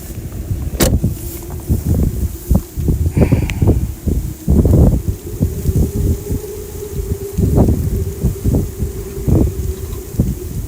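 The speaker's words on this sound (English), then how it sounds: "it's windy. I can hear it all out here" Gusty wind buffets the microphone outdoors during a tornado outbreak storm chase in Iowa, roaring in uneven surges with a steady low hum underneath.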